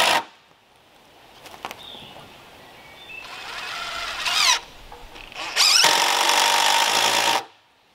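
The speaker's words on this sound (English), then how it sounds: "I'm putting these screws in there so that these don't actually pull out or pull away." A power drill drives screws into a homemade 22-foot wooden ladder with tenon joints, several loud whining bursts of the motor with short gaps between them, the longest run near the end.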